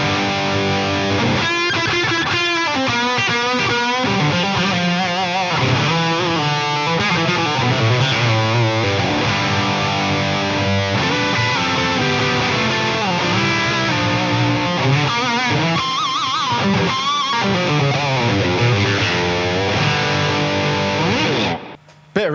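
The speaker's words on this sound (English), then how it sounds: "see what happens if we throw a tube screamer on." An electric guitar runs through an amplifier set for crunch with a Tube Screamer overdrive pedal in front, playing a steady run of distorted chords and riffs for over twenty seconds before cutting off abruptly at the end.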